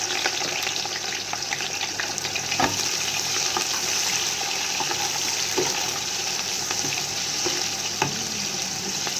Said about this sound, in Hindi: घी मेल्ट हो चुका है और बहुत अच्छे से गर्म भी हो चुका है। अब इसमें ऐड कर देते हैं प्याज